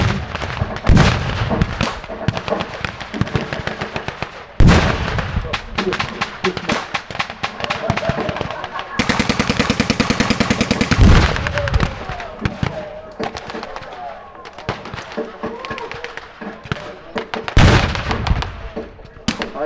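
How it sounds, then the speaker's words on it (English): Loud artillery shells from WW2-era guns explode in repeated heavy bangs, irregularly spaced and reverberant, with a dense rumbling barrage in the middle and scattered crackling blasts throughout. "fire shells that create such a loud bang, such a loud explosion"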